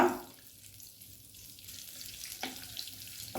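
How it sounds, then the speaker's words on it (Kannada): A soft, steady sizzle of butter melting and heating in a pan, low and close, with a faint scrape partway through. "ಬಟರು ಮೆಲ್ಟ್ ಆಯಿತು"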